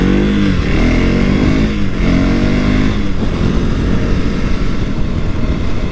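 A 2024 KTM Duke 390 with a 398 cc engine, ridden on the road, gives a loud, steady engine drone close by, with revs rising and falling in the first few seconds.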